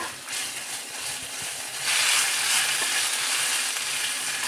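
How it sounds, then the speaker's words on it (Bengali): Ginger paste fries in a pan after asafoetida tempering, a close, steady sizzle with soft stirring scrapes that swells louder partway through. "আদা বাঁটাটা দিয়ে দিলাম দিয়ে আদাটা একটু ভেজে নেব"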